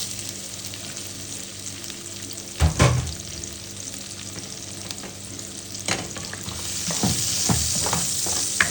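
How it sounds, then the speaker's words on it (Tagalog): Garlic sautés in oil with a steady, close sizzle, broken by a few sharp clanks and scrapes of a utensil against the pan, and the frying grows brighter toward the end. "Ngayon ay mag-gisa na tayo ng bawang."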